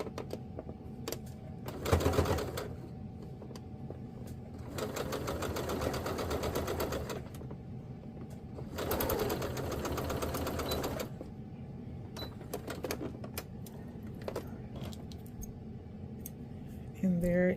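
A domestic sewing machine sews a quarter-inch seam on a lounge wear top in two sustained rattling runs, each a few seconds long, close by, with a person speaking softly between them.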